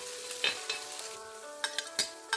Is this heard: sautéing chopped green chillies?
yes